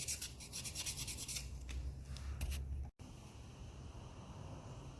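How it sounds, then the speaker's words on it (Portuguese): Close, dry rasping of sandpaper rubbed in quick repeated strokes on painted figure pieces, stopping abruptly partway through, followed by faint room hiss. "Então eu vou estar lixando todas as peças agora."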